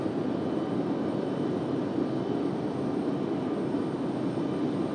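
An Airbus A220 jet airliner, likely a Breeze Airways flight, passes over Raleigh-Durham International Airport at night, a steady broad engine roar that holds at constant loudness throughout, with no talk.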